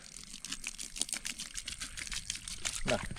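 Water pours and splashes onto dry, crumbly mud, with a steady wet crackling and trickling close by, no voices.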